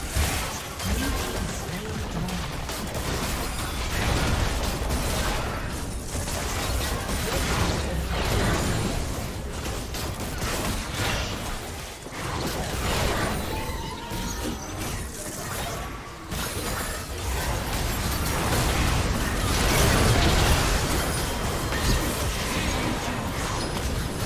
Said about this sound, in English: Inhibitor has been destroyed.